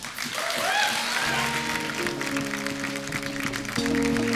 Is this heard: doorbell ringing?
no